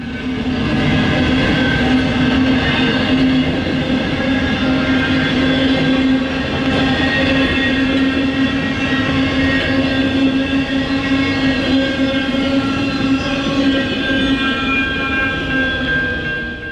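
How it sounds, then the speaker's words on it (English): A Norfolk Southern freight train rumbles past nearby in Toledo, loud and steady, its wheels grinding and squealing on the rails with a continuous metallic drone. "our next train was the Delta Local"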